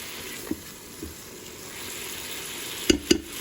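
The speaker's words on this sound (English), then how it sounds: "I'm gonna just toss it all and saute it for a few minutes" A stuffed mushroom filling sautés in a Ninja Foodi, sizzling softly and steadily in the background, with a few sharp clacks from a stirring utensil near the end.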